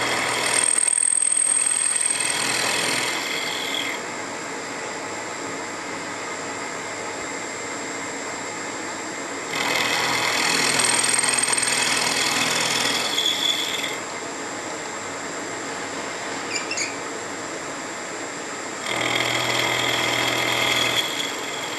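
A milling machine makes climb-direction finish passes: a steady motor drone throughout, rising three times into louder, harsher cutting stretches near the start, middle and end, with no talk.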